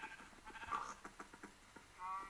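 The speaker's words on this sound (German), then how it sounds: "Sagen wir da hinten die Kühe, die Schafis." Sheep bleating in the video game Minecraft, a few short wavering calls repeating over a quiet background, fairly faint and with no talk.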